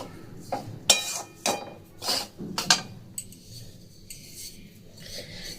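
A spoon scrapes and clinks against a pan while stirring a corn flour laddu mixture off the heat, in a series of sharp close strokes followed by softer rubbing.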